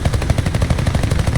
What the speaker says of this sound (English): Oh, I almost got the cannon rounds on him there.